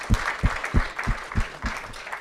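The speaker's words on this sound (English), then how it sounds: "Let's give them a final round of applause." Conference audience applause with a quick run of several claps spaced evenly about a third of a second apart, fairly close, no talk over them.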